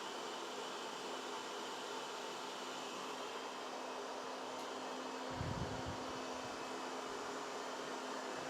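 A Vactidy Nimble T8 robot vacuum cleaner runs with a steady, fairly quiet whirring hum in a kitchen while picking up cornflakes, with a short low bump partway through.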